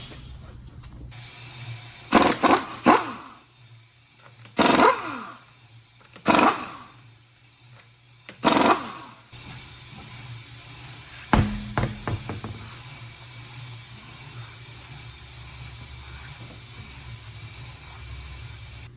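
A vehicle lift raises a car during a New York State auto inspection: a steady low motor hum runs throughout, broken by several loud, sharp hissing bursts that start and stop abruptly, then the hum continues alone.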